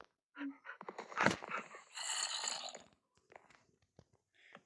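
Dogs pant and whimper close by in short, uneven bursts, with a louder stretch of whining and breathy sounds in the middle before trailing off into scattered small noises.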